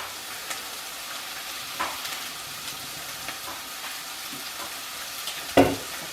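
Leftover onions fry in a pan on a home stove with a soft, steady sizzle and occasional faint clinks of stirring, heard alone and fairly quiet.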